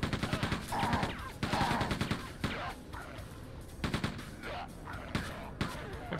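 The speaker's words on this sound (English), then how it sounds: "I think I picked up a machine gun, didn't I?" Rapid machine gun bursts from the Quake II video game crackle in quick repeated volleys, loud and close, broken by short gaps with faint game ambience between.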